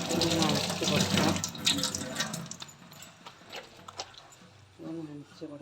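Water running from a tap to soak a cleaning cloth for a fridge, a splashing stream that thins and fades as the cloth is wrung, with a voice talking over it.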